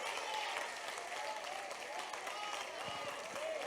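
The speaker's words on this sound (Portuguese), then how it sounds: "aplauda o Senhor com força" Church congregation clapping, a steady dense wash of applause heard faintly from a distance, with no break throughout.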